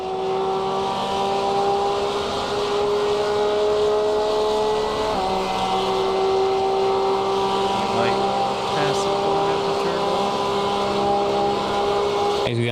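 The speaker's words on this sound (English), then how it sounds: "There's a GT3 coming." A GT3 race car at the Mugello circuit, its engine a loud, steady tonal drone that holds, dips in pitch briefly and climbs again, close and dominant throughout, with a voice speaking underneath.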